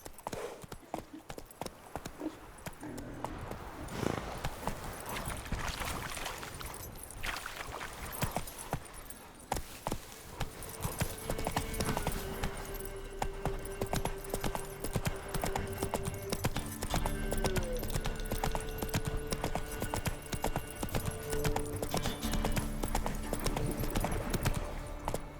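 Horse hooves clip-clop and gallop in The Witcher 3: Wild Hunt on PS5, a rapid rhythmic drumming of hoofbeats running throughout, with game music and brief voices layered over it in the later part.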